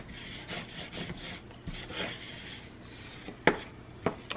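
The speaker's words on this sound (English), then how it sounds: "I am going to burnish this." A burnishing tool rubbing over a paper pocket, making soft repeated scraping strokes up close, followed by a few sharp taps near the end, with no talking.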